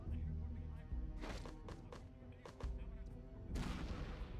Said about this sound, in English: So I'm going to actually use a frag grenade here.